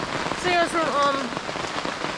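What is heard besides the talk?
heavy rain pouring on a tent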